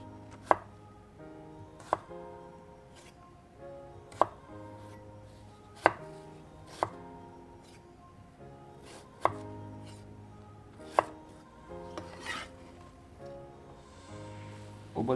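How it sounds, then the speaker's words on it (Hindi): Knife chopping two potatoes into fry-shaped sticks on a board, with sharp, well-spaced chops about every one to two seconds, close and clear, and light kitchen handling between cuts; no talking. "उन्हें फ्राइज़ की शेप में कट कर लेंगे।"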